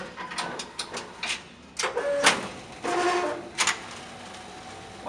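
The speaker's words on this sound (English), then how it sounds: "again the machine is going to automatically load the film" A Mettler Toledo 880 auto wrapper for grocery retail loads its film automatically. Close mechanical whirs, clicks and short motor runs come in uneven bursts.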